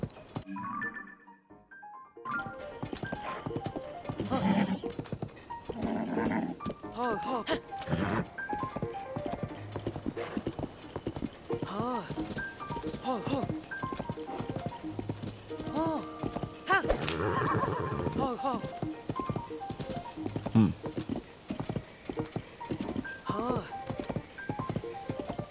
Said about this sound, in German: Okay, können die gar nicht galoppieren,